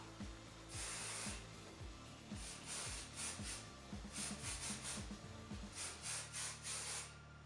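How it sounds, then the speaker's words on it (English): Hairspray hisses onto hair in a run of short bursts, some single and some in quick clusters, close but soft, with faint clicks of the nozzle between sprays. "And in order to make it stay better, I'm also using some hairspray on top."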